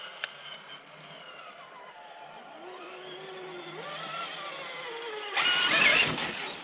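A Ford Bronco in four-high revs with a rising, climbing engine note that builds steadily, then breaks into a loud, rough burst of tire spin and scattering debris near the end.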